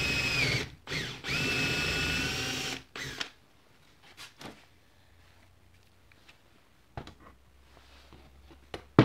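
A power drill fitted with an 8 mm bit whines loudly in short bursts during the first three seconds while boring a hole for a handmade clock unit. Then it falls quiet apart from faint knocks and handling noises.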